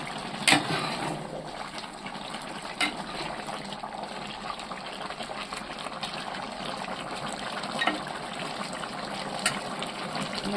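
Homestyle country chicken curry boils in a pot, giving a steady, continuous bubbling hiss with a few brief louder pops along the way.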